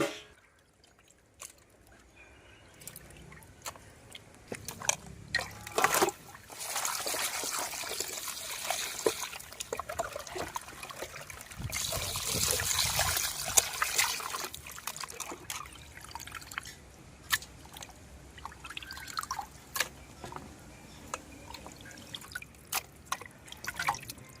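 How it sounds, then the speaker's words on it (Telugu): Tap water runs and splashes while raw chicken is washed in a kitchen, an uneven trickle and spatter close by, swelling louder in the middle, with no voices. "చికెన్ని మూడు నాలుగు సార్లు శుభ్రంగా కడుక్కోవాలండి"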